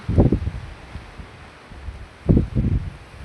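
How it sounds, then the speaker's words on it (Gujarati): Low, blustery rumbles of wind buffeting the microphone, two strong gusts near the start and end with quieter steady noise between. "પવન બહુ એટલે થોડોક અવાજ કપાતો જાય"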